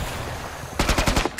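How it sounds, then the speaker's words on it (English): Rapid automatic gunfire from the video game Killing Floor 2 bursts in sharp, loud, close volleys over a low rumbling game soundscape. "Shots at me."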